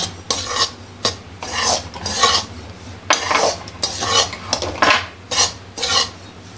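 Spoon scraping and stirring roasted gram flour laddu mixture with ghee in a metal pan, a series of close rasping strokes in an uneven rhythm, with no voices.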